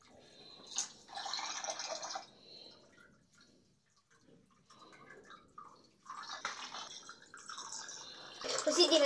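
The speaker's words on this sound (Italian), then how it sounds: "accendiamo l'acqua e laviamolo" Tap water runs to bathe a cat, with hissing bursts of flow starting and stopping between quieter gaps, close to the microphone.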